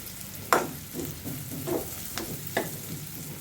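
Potatoes and turmeric for aloo curry frying in a pan, a low steady sizzle broken by several sharp scraping stirs of a spoon, close and moderately loud with no talking.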